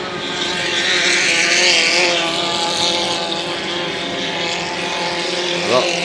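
2.5 litre hydroplane racing boats roar at Valleyfield, a dense, sustained high engine drone with a slowly shifting pitch as they pass, loud and continuous while a commentator talks over it.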